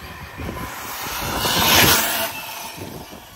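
A Losi 5T brushless RC truck with an 8S LiPo and a Castle 2028 800kv motor makes a flyby, its high motor whine swelling as it nears, peaking, then fading, against steady outdoor wind noise.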